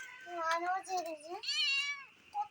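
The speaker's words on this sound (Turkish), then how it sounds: "Kedimiz de bekliyor." A house cat meows loudly several times in a row, drawn-out rising and falling cries close by, heard while food is being cooked for the pets at home.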